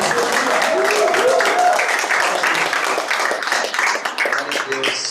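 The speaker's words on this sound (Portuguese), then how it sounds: "Você pode aplaudir o Senhor com toda a força." Congregation at a celebration church service applauding, a dense wash of clapping from many hands under loud voices shouting and praising, with the clapping thinning toward the end.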